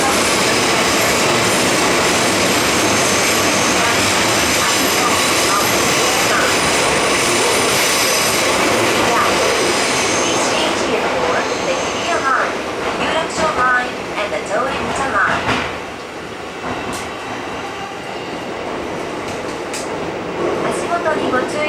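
A Tokyo Metro 16000 series train with Mitsubishi Si-IGBT drive runs loud and close, a dense rumble and whine that eases as it slows, with a platform announcement voice over it.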